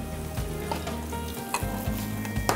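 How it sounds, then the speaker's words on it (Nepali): Chicken achar with chili powder and a timur and mustard spice mix is stirred in a hot frying pan, giving a steady sizzle with scraping spoon strokes and occasional sharp clinks, no voices. "त्यसपछि फेरि एकछिन चलाउँछौँ हामी"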